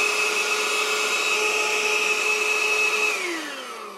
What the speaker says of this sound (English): this is the C3 vacuum cleaner, plug that battery in